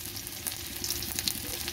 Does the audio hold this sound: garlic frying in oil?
yes